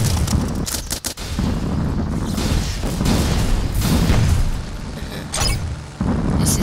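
A minigun fires in the plane combat video game Altitude: a dense, rapid barrage of heavy booming shots that rolls on continuously for several seconds, with brief dips between bursts.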